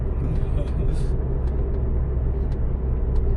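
A Peugeot 308cc fitted with a turbo accelerates hard, its engine giving a loud, steady low rumble close by inside the cabin, while people talk over it.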